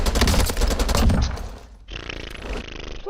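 AK rifle fire in Call of Duty Warzone: a fast, loud, close burst of rapid shots for about a second and a half, then a short gap and a brighter, quieter stretch of game noise, no talk.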